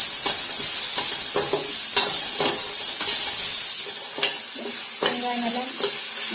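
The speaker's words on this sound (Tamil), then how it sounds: "வெங்காயம் பூண்டு ரெண்டும் வதங்கி" Onion and garlic sautéing in a hot pan, a bright continuous sizzle broken by rhythmic spatula scrapes and stirs that ease slightly toward the end.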